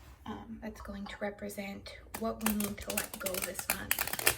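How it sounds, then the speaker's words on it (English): Tarot cards being shuffled by hand make soft, rapid riffling and tapping bursts underneath a woman's quiet speech, close and continuous through the whole stretch. "That's the sound of me shuffling them there in the background,"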